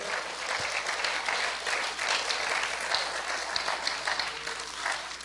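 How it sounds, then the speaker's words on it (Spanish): A church congregation breaks into strong, sustained applause for the Lord during a sermon, a dense wash of many hands clapping at a steady level from start to finish. "Demos ese aplauso fuerte al Señor."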